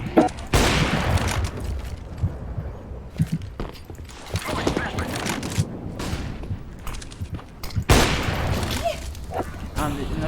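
Rapid bursts of video game gunfire with booms and impacts, mixed with a player's excited talk over a busy soundscape.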